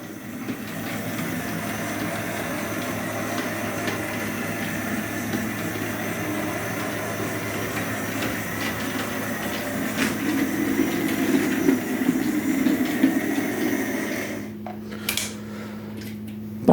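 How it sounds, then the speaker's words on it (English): A Hornby 00 gauge model locomotive runs around a small layout, giving a steady close motor hum and light rolling rattle on the track, rising slightly before stopping, with a few clicks afterward and no talk. "Very nice locomotive that. Hornby again. All of these locomotives are Hornby. And he's running around, no problems there."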